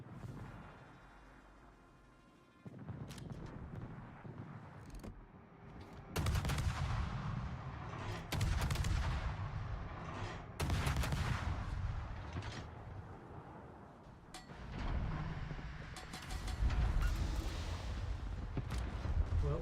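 Warship gunfire and torpedo impacts in World of Warships: repeated heavy booming blasts and rumbling explosions overlap in a loud, continuous barrage, with louder surges.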